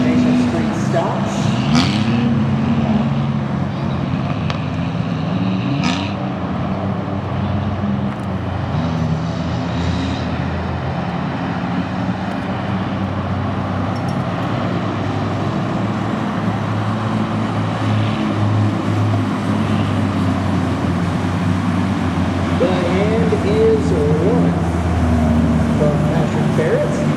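Race car engines running on track after a restart, a continuous loud roar and drone throughout, with a commentator talking over it.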